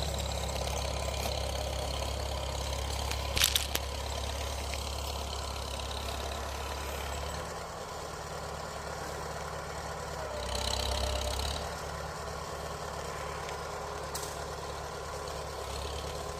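A large tractor engine idles steadily during snow plowing on a driveway in Nebraska, a constant low rumble with a slight dip and swell midway, no one speaking.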